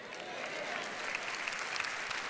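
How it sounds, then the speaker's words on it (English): An audience at a church sermon applauding, a dense, steady wash of clapping that carries on evenly from start to finish without anyone speaking. "You ain't clapping quite as loud as you did on the other team."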